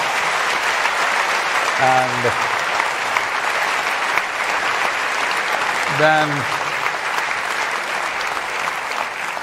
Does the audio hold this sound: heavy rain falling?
no